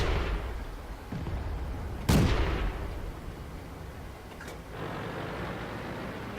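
A Panzer 38H premium light tank fires its gun in World of Tanks, one sharp booming shot with a decaying rumble, followed by a fainter click and continued low engine drone.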